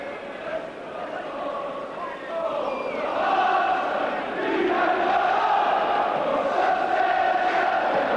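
A football crowd of Hearts supporters at a 1992 European match against Slavia Prague roars steadily in the stadium, a broad, sustained wash of chanting and noise that swells after a couple of seconds, with a commentator talking over it.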